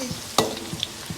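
Chicken frying in oil, a brief steady sizzle close by, punctuated by a couple of light utensil clicks and taps, with no speech.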